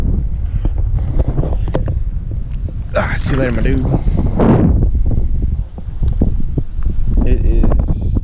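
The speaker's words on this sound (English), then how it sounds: "It is terribly windy on this side, so you guys probably ain't gonna be able to hear anything." Strong wind buffets the microphone outdoors beside a creek, a constant loud low rumble throughout while someone talks over it.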